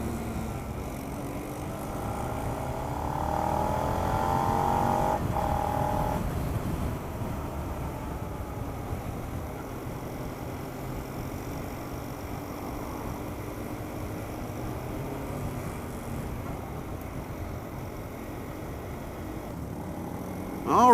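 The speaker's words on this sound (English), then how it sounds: "first impressions of this little motorcycle is that it's got a little spirited engine" Suzuki SV650 650cc motorcycle engine while riding, a continuous drone mixed with rushing wind noise, rising in pitch briefly as it accelerates, then settling to a steady cruise.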